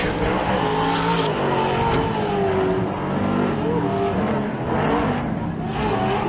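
Pro 2 short course race trucks roar around a dirt track at the SBC Fairgrounds during a Great American Short Course round, with a dense, continuous engine drone shifting in pitch and a commentator talking over it.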